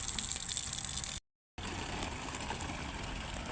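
Water gushes steadily while being fetched, a loud continuous rushing stream that cuts out briefly for a moment and then resumes at the same strength, with no talking over it.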